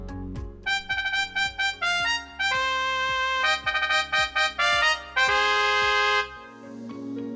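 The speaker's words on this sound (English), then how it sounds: "Cinderella's theme. Or Cinderella's main theme, there's another one. It's also known as the festival theme." Cinderella's festival theme from the musical Into the Woods, a bright instrumental passage of quick repeated plucked chords over a bass line, alone, ending on a sustained held chord.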